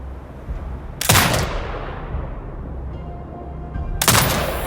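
Two loud turret gunfire bursts in Sniper Ghost Warrior Contracts 2, each a sharp blast with a fading tail, spaced a few seconds apart over a steady low ambient rumble.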